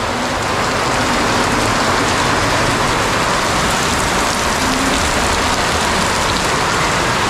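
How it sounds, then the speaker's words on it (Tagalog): Heavy rain pours down steadily on a house in the Philippines, a dense, loud, unbroken hiss that fills the whole stretch without a pause. "lalong lumakas yung ulan"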